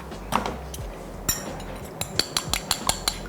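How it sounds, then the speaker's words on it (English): An egg being whisked in a bowl, a quick series of light metallic clinks and taps against the bowl that speeds into a steady rhythm near the end, close up with no talking. "So just crack open an egg, put it into a bowl, and start whisking away."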